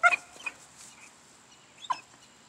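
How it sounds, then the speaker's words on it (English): A chicken clucks in short close bursts, a quick pair at the start and another cluck near the end, over a quiet background. "Look at that chicken."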